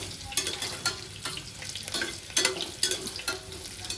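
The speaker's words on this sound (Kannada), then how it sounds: "ಎಲ್ಲ ಚೆನ್ನಾಗಿ ಮಿಕ್ಸ್ ಮಾಡಿ ಎಣ್ಣೆಲಿ ಸ್ವಲ್ಪ ಫ್ರೈ ಆಗಬೇಕು ಇವು" Ginger and garlic frying in oil in a pan for moong dal khichdi, giving a steady soft sizzle broken by several sharp stirring scrapes, close and moderately loud, with no talk.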